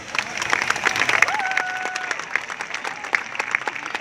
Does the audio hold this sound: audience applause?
yes